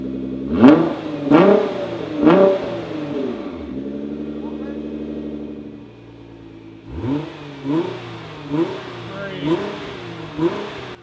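A Nissan GTR with an ARMYTRIX exhaust revs in short bursts, holds a steady idle drone, then revs again as the exhaust valves open and close, loud and close.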